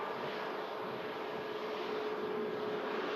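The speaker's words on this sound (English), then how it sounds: "In from Amsterdam, this EasyJet A320neo. Z. Arriving in after a flight time of just 58 minutes." An EasyJet Airbus A320neo arriving from Amsterdam at Manchester Airport gives off a steady, broad jet roar that holds evenly throughout, with no voices over it.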